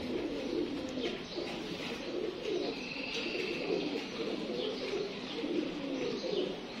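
Teddy pigeons kept for sale in Sialkot coo steadily and densely, several birds overlapping with soft chirps in a continuous, fairly close chorus and no talking.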